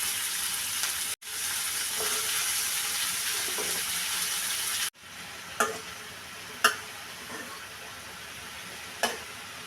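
Vegetables sizzle and fry in a pan after prawns were fried in it, a steady close hiss broken by a few brief gaps and sharp stirring clinks.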